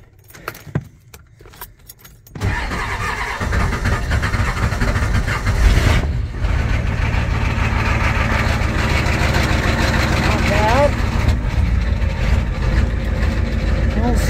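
Keys jingle briefly before an old Ford 6.9 or 7.3 IDI diesel engine cranks and fires, then settles into a loud, steady, rattling idle close by.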